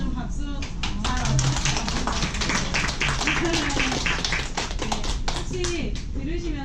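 Gathered audience at a community workshop event in Seoul claps for the district councillor, brisk overlapping hand claps running steadily throughout while voices talk and murmur over them.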